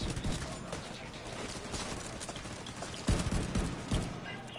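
Gunfire in The Division 2 during open-beta play, rapid bursts of shots and impacts crackling throughout, with a heavier volley near the end, loud and close.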